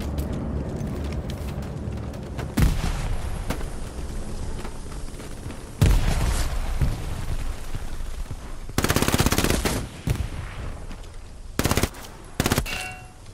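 Gunfire in the World War II shooter Hell Let Loose on PS5 crackles at mid distance, with single sharp shots and several loud automatic bursts breaking over a steady background hum of battle.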